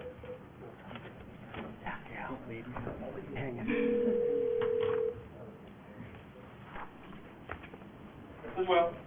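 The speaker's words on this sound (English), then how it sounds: "Let me call Will on the phone here" A speakerphone emits a single steady electronic tone lasting over a second during a historic preservation commission meeting, with people talking in the room before and after it.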